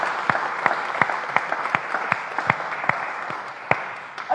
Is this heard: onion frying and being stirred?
no